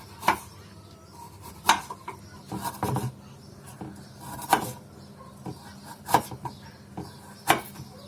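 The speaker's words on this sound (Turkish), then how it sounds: "Havuçlarımızı eğik bir şekilde doğruyoruz." A knife chops carrots diagonally on a cutting board in spaced, sharp knocks about once every second or so, with soft scraping in between.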